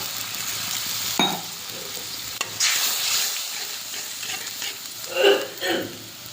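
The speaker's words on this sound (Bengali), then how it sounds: "এবার ধনের গুঁড়ো দিয়ে দিলাম আর একটু জল দিয়ে দিলাম।" Coriander powder and a splash of water go into a frying pan of eggplant and catfish curry, giving a steady sizzle with scraping spatula stirs and a few sharper clatters near the end; no voices.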